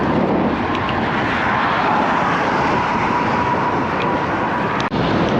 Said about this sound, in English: Right now the wind is kind of a side wind.